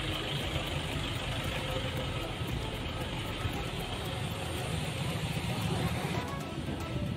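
Queued motorcycle engines idle together at Merak port, a dense low rumbling drone that holds steady and close throughout, with no speech on top.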